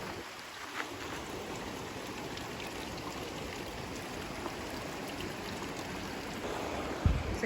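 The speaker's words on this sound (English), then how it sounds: "Let's go across this creek." A creek flows along the A.B. Young Trail in Sedona, Arizona, a steady, soft rushing and trickling of water heard close by, continuous throughout with a small splash or step near the end.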